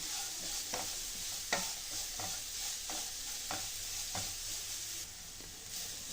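Grated carrot frying in a pan, a steady close sizzle punctuated by regular spatula scrapes and taps as it is stirred, about every half second to second, with no speech.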